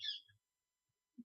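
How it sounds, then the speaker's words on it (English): Parrots in a room: a bright, sharp squawk at the start, followed by short low calls and a brief guttural sound, with quiet pauses between them and no talking. "excuse the parrots"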